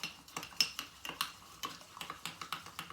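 A spoon stirring a mint julep with a scoop of ice in a glass, producing a quick series of sharp clinks and taps that repeat in an uneven rhythm, close and alone.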